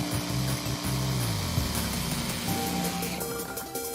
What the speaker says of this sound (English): Did I mention this is my first time ever using a jigsaw?